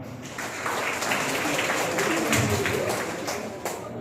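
Audience applause fills a hall, rising after a quiet start into steady, moderately loud clapping that carries on to the end.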